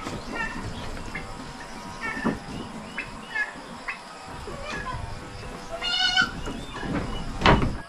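Pet goats bleat several times, with some higher, wavering cries near the end, over a busy farmyard background with voices mixed in.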